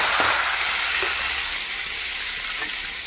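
Tomato, onion and curry leaves hit hot oil in a pan, a bright, dense sizzle that holds steady and close, fading slightly, with a few faint clinks and no voices.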